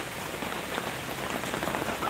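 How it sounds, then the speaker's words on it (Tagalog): Steady night rain patters on surfaces, a dense, even hiss of drops that stays constant for a couple of seconds with no voices. "yung ulan, simula alas 2 ng madaling araw, minsan alas 3, umuulan talaga siya"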